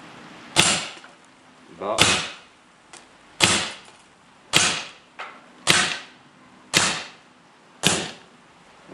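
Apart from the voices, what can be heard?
legal self-defense launcher firing test shots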